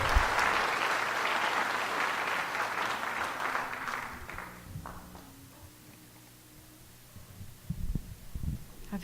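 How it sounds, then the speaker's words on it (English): Audience applause for a singer at a community big band concert in Ontario, a dense wash of clapping that fades after about four seconds, leaving low hum and a few scattered sounds. "Please join me in giving her a warm round of applause"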